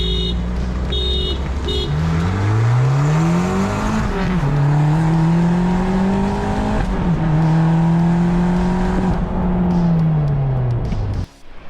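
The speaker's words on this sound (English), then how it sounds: "Let's go do a 10 roll real quick and see how these two cars perform." Turbocharged ND Miata and Fiat 124 Abarth doing a roll race, an engine heard from inside revving hard and loud through rising gear pulls with brief dips at shifts, then cutting off abruptly.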